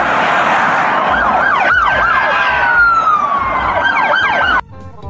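A toy police siren wails in rising and falling sweeps, loud and close, then cuts off abruptly near the end.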